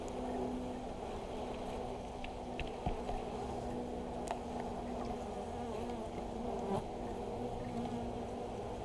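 A steady, close buzzing drone of many honey bees around a hive fills the scene, with a few faint clicks and taps scattered through it.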